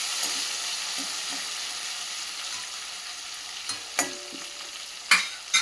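Tomatoes stirred and fried in a pan for a capsicum curry give a steady close sizzle, punctuated later by several sharp scraping knocks of a spoon against the pan.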